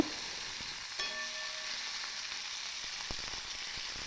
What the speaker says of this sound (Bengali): এদিকে পেঁয়াজ ভাজা হচ্ছে হোক